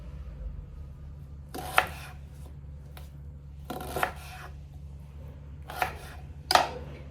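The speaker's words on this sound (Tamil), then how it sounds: "இந்த மாதிரி சாப் பண்ணி எடுத்துக்கோங்க" A knife chops through vegetables on a cutting board, with about four or five sharp, distinct cuts spaced irregularly over a low steady background hum.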